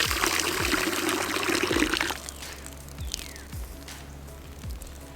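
Water pours and splashes loudly for about two seconds as an animal water container on a Minnesota homestead is emptied, then stops, leaving a few soft thumps and faint dripping.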